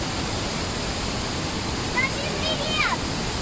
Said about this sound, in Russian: Мы дошли до первого водопада.